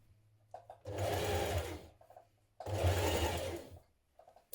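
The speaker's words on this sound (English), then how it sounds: "Then we're going to stitch that hem in place." Two sustained bursts of a sewing machine stitching the hem of a blouse, each running steadily for about a second or two with a short pause between, loud and close with no talking.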